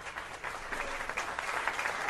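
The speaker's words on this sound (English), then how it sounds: "Let's give a big round of applause for that." A crowd at a live show gives a round of applause, a steady wash of many hands clapping at a distance, faint and continuous with no voices over it.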